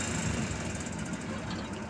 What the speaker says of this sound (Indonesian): dikira knalpotnya diganti knalpot motor, makanya suaranya kayak motor